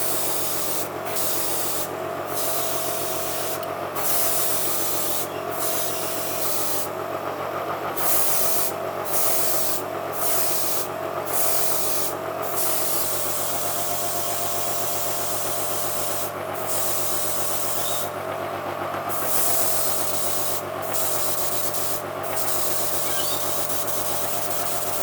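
An airbrush sprays a white base coat onto a handmade perch swimbait lure. The hiss is loud, steady and close, cut by brief gaps and short bursts where the trigger is released and pressed.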